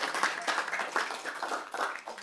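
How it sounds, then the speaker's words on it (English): A council meeting audience in the City of Swan claps together, a short burst of scattered, moderately distant hand claps with no voices. "So I think it deserves a big round of applause as well."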